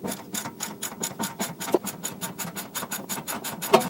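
A ratchet clicks rapidly and evenly while breaking loose a nut on rear camber arm suspension of an Acura Integra DE4 or 11th-gen Civic Si, close and crisp with a metallic clink near the end.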